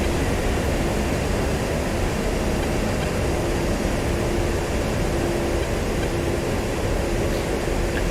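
Steady, broadband jet roar from an F-16 or F-18 descending on approach in DCS World with air brakes out, a continuous loud engine and airflow rush with a faint sustained tone, no talk over it.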